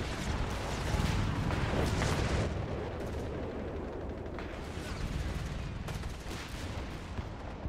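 Dense, continuous battlefield gunfire from Company of Heroes 3, a steady roar of machine gun bursts and distant artillery, loudest early on and then holding at a sustained rumble with no talk.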